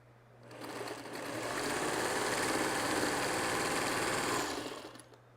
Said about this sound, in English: So I'm going to sew, I can chain sew these.